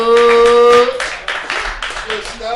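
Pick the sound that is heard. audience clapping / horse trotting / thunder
audience clapping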